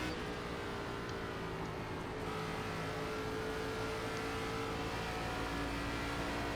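Race car engines droning around Darlington in iRacing, a dense continuous roar of several cars at speed, steady and even throughout with no talk.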